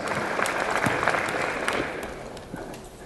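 Luncheon guests give a round of applause, a brief burst of many hands clapping that is loudest at first and gradually thins out over a few seconds.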